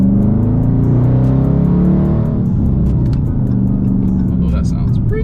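Dodge Charger R/T with a V8 engine, a loud steady low rumble from inside the car while driving, with someone talking over it.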